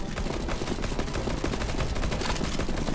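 Dense, continuous gunfire in CS:GO Zombie Escape, many overlapping rapid shots forming a loud unbroken barrage.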